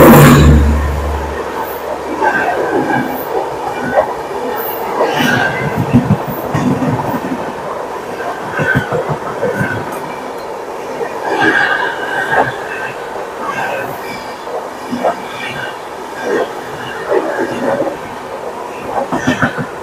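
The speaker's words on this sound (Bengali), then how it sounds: "এবার আমরা জিং দেখবো ট্রেন নাম্বার 12424 ডিব্রুগড় রাজধানী এক্সপ্রেস।" The Dibrugarh Rajdhani Express, train 12424, rolls past close by with a steady loud rumble, clattering wheels over rail joints and brief metallic squeals, sustained for about twenty seconds.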